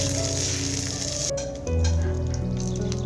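Tempering of mustard seeds, cumin, dry red chilies and curry leaves frying in hot oil in a home kitchen pan gives a loud, steady sizzle with crackling pops throughout, with no voices.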